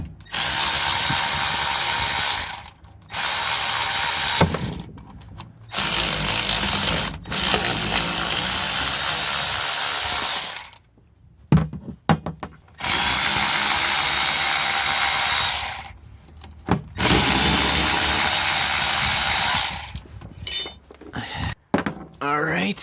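A ratchet wrench clicks in long rapid bursts separated by short pauses as it loosens the bolts on the cover plate of a GM 8.5-inch 10-bolt differential, heard close up with a voice speaking briefly.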